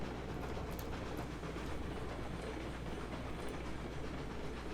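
A train rolls along rails in the video game Railroads Online, a steady loud rumble with faint clicking that runs unbroken throughout.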